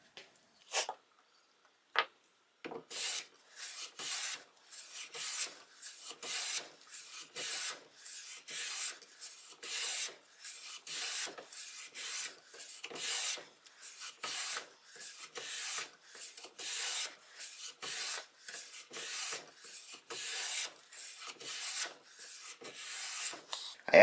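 Lie-Nielsen No. 4 hand plane with a cambered iron taking thin wood shavings, a steady series of close, rasping strokes in a rhythmic back-and-forth pattern, fairly quiet, with no talking.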